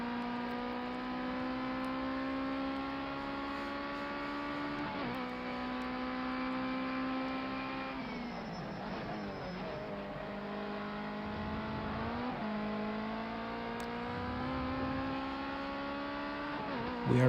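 A race car screams around the track in Project Cars 2 on PS5, its steady high engine whine dipping sharply at each gear change before climbing again, continuous and close throughout.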